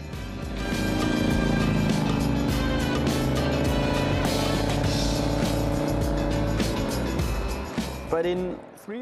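A small three-wheeler car engine revs and roars steadily up close for several seconds, then eases off as a voice begins to speak.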